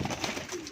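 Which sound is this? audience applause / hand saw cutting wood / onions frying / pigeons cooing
pigeons cooing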